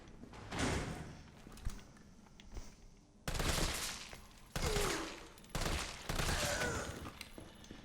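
Sharp bursts of gunfire in Resident Evil 3 Remake come in several separate loud volleys with short pauses between them, close and punchy.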